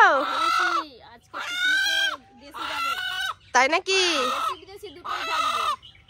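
Several rooster calls with harmonic, drawn-out crowing and clucking phrases, loud and close, separated by short pauses, with a brief spoken question in between.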